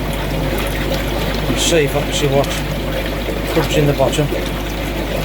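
Water pours and trickles as it is flushed down through a stainless steel chamber, a steady running wash with splashy bursts, heard under someone talking.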